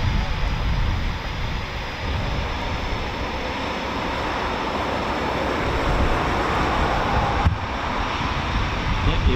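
Eurofighter Typhoon FGR4 jets arriving at RAF Coningsby produce a broad, distant roar that holds steady and swells slightly, mixed with wind buffeting.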